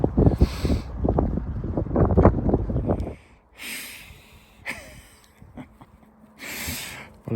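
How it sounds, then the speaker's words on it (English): Strong gusty wind buffets the microphone outdoors over a farm field where hay bales are being wrapped, roaring loudly at first, then dropping to a lighter rush broken by several short, sharp gusts. "It's quite windy."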